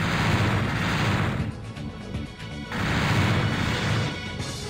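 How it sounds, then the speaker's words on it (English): Repeated explosions and crashing blasts from the Super Robot Wars MXP lunar stage battle, loud and dense in two sustained bursts with a brief dip between them, no talking. "Fled under the cover of the explosions."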